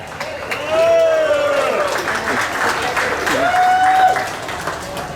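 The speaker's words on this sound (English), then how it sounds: "all the crowd out there that's cheering you on" Crowd at a fairground race cheers and applauds loudly, swelling in two waves with whoops and voices rising over sustained clapping.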